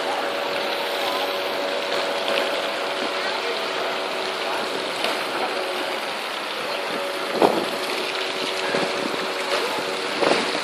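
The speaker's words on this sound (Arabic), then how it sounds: "وتشوفون هالنافورة العجيبة، شوفوا الحركات العجيبة، كل ماكينة تسوي لها حركة." A mechanical fountain in Basel, Switzerland, with moving machines churning and splashing water, gives off a steady loud wash of spray with a few sharper splashes and knocks, under a constant outdoor hum.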